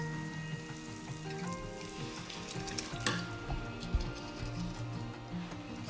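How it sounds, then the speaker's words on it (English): Coconut milk stirred into rice toasting in a pot, a steady close sizzle with soft scraping and stirring knocks throughout, one sharper clink near the middle, no voices. "you just stir it in until it dissolves into the rice"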